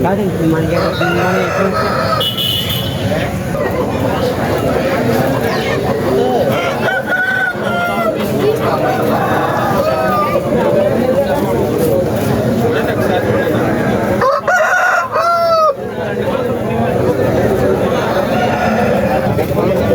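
Country roosters crow repeatedly amid a busy Saturday native-chicken market, loud and close, mixed with clucking and constant crowd chatter.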